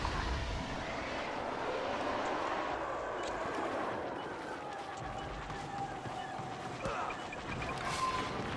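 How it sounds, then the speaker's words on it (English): An enemy bomber flying in the Star Wars Battlefront video game, heard as a sustained engine roar and whoosh that fades somewhat midway and then rises again, amid busy battle noise. "Our AT-AT is being targeted by an enemy bomber."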